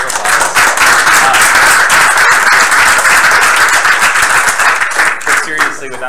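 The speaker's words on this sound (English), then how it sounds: "Everyone, round of applause." Audience applause at hackathon presentations: dense, loud clapping from a crowd that lasts about six seconds, with voices faintly mixed in.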